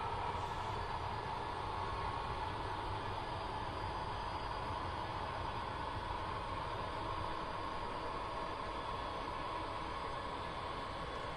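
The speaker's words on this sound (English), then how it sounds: "The LUJ 63 departs from the Evanston yard and goes to Ogden and stops at Wholesome Cement along the way." An HO scale model train departs a model yard with a faint, steady rumbling hum of running wheels and motor, continuous and low in level, with no voices.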